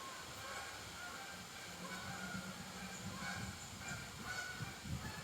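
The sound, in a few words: geese honking while flying through trees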